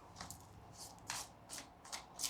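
A deck of tarot cards being shuffled by hand, with soft riffling bursts recurring every half second or so, close and fairly quiet, with no voices.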